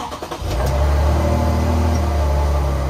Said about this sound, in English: So the first one was engine clunking upon startup.